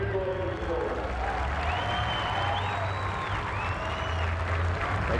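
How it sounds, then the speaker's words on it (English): Cheering crowd at a 1995 NMRO mud racing event in Lima, Ohio, a steady broad roar of applause and voices throughout, with a low engine rumble and faint whistle-like tones running beneath. "Acknowledges the cheers from the crowd."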